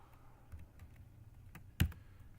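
Computer keyboard typing, a few faint soft key taps scattered across a quiet room with one sharper louder click near the end, no talking.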